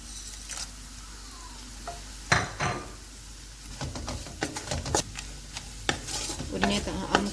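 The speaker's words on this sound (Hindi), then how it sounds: "इन्हें हम तकरीबन 1 मिनट तक ऑयल में फ्राई करेंगे" Whole spices fry in oil in a pan with softened onions, giving a soft, steady sizzle. A spoon scrapes and clicks against the pan in irregular bursts as it stirs.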